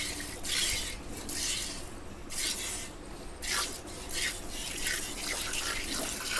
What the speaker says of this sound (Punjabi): ਲਓ ਦੋਸਤੋ ਧਾਰ ਕਰੋ ਚੈੱਕ ਪੂਰੀ ਬੰਦ ਕਰਕੇ ਧਾਰ ਪੈਂਦੀ ਆ ਬਾਲਟੀ